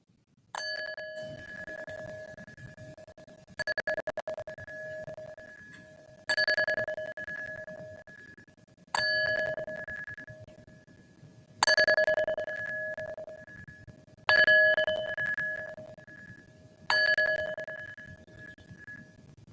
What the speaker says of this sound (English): I'll now ring the bell 7 times for our 7 principles.